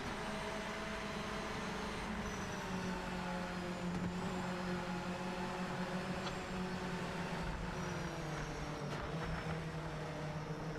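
A Mazda race car engine in the Project Motor Racing sim sends out a steady, droning tone with layered harmonics, held fairly evenly throughout and heard alone, without talk.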